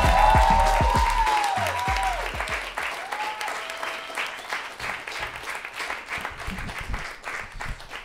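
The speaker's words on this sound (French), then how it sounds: "un tonnerre d'applaudissements pour Laurie Théroux!" Audience applause greets a stand-up comedian at a comedy show: a loud, dense wave of clapping from a live crowd, strongest at the start and gradually thinning, with an announcer's voice over the opening moments.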